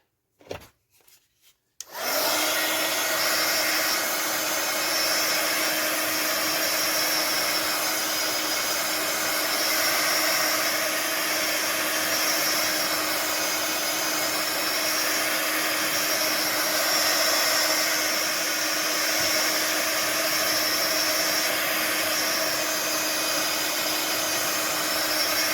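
A handheld heat dryer blows steadily over a craft album page, a loud, continuous whirring hiss that starts abruptly after a couple of brief handling knocks and runs unbroken to the end.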